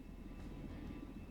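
Steady, even engine drone and rotor rumble from a helicopter in flight in the video game SimplePlanes, continuous for the whole stretch and without any voices.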